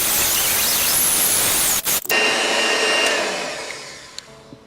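An electric mixer whips cream sweetened with a teaspoon of sugar, giving a loud, steady whirring drone that cuts out briefly near the middle, then resumes and eases off slightly toward the end.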